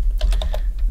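Quick bursts of typing on a computer keyboard, several close, crisp key taps in about a second with no talk over them.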